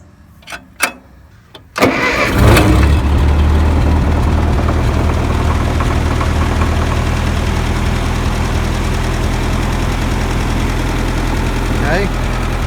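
A 1952 Ferguson TO-30 tractor engine is cranked with a few clicks, catches after about two seconds, and then settles into a loud, steady, close idle.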